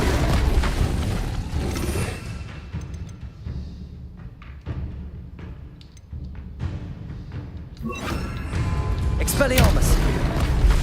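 Incendio fire spell cast repeatedly in the Hogwarts Legacy video game, with loud whooshing bursts and booming impacts over a steady rumbling game backdrop, intensifying toward the end.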